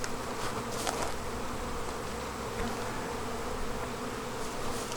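Honey bees swarm around an open beehive during a hive inspection, a dense, steady close buzzing hum with occasional louder passes of individual bees near the microphone.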